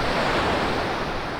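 Ocean surf breaks on the seashore at a fishing community's beach, a steady loud wash of waves with wind noise buffeting the microphone and no talking.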